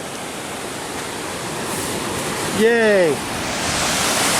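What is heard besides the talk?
Skalkaho Falls waterfall in a canyon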